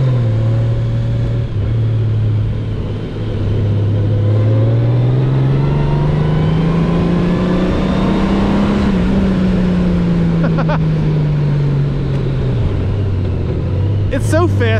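A Honda Goldwing DCT motorcycle accelerates hard, its engine drone climbing steadily in pitch, shifting and climbing again under heavy wind rush. Someone talks over it.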